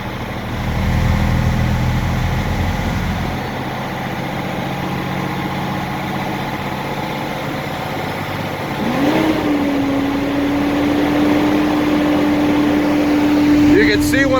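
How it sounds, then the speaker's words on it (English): A 2005 Sterling crane truck's diesel engine idles steadily, then its revs climb at around nine seconds and hold at a raised, steady pitch to the end. "kick up the RPMs."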